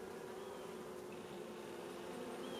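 Honey bees buzz around an open weak hive during an inspection, a soft continuous droning swarm hum with a few individual bees whining past close by.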